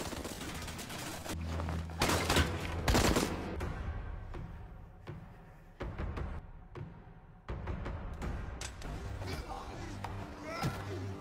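Film fight scene with men carrying long guns: sharp bursts and volleys of gunfire in clusters separated by quieter gaps, with a narrator talking over much of it.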